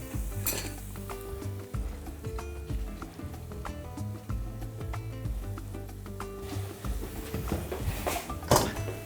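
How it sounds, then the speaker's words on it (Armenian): Pasta tumbling into an oiled oven tray for a baked beef and pasta casserole, with dense clattering and scraping of utensils against the tray, steady and close throughout with a sharper knock near the end. "Լցնում ենք պաստան։"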